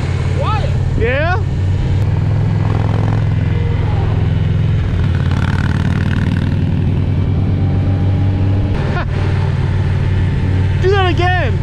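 An Indian Challenger motorcycle engine hums and drones steadily on a test ride, with rising revs and wind noise throughout and people talking over it.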